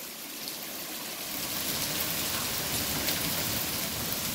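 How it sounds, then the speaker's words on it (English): Large quarter-sized hail falling hard at night, a dense steady roar of impacts that builds slightly and then holds, loud and close with no voices. "More hail!"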